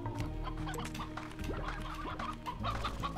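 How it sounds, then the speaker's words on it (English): Chickens in the video game Slime Rancher cluck steadily in a dense flock, with overlapping calls and a game music bed underneath, fairly loud and close. "Hello, chickens."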